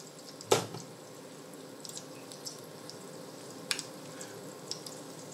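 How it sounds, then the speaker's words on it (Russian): Water dripping from melting ice, sparse and very quiet, with one sharp drop at the start and a few fainter ticks and drips spread irregularly over several seconds. "Вот таяние воды."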